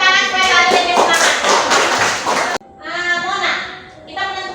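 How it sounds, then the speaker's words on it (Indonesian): A classroom of students claps in a loud, dense burst for a classmate, then the sound cuts and quieter scattered claps and children's voices follow. "Beri tepuk tangan supaya Kali lebih semangat."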